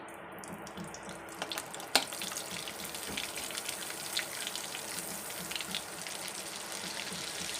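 Masala sizzling in butter in a pan for butter chicken, a steady close hiss and crackle with a few louder pops, no voices.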